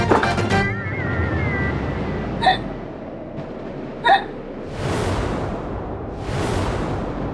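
Several sharp hiccups break out at intervals in a Hindi TV drama scene, short and close, with a woman's breathy vocal sounds at the start and soft background swells between them.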